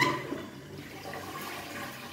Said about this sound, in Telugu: ఫ్లష్ చేస్తే చాలు.